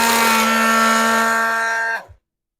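A ZenithPack V3 battery-powered hand strapping tool friction welds a PET strap, a loud, steady high-pitched mechanical buzz for two seconds that stops abruptly into silence.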